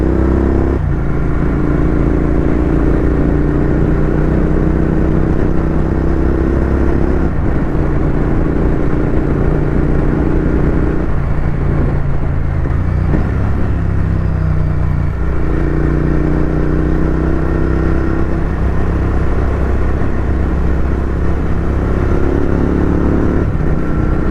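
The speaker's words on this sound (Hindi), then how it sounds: "थोड़ी भगा के देखते हैं ठीक चल रही है बाइक या नहीं।" A motorcycle engine roars steadily while riding, with the pitch rising and falling as it accelerates and shifts, loud and close throughout.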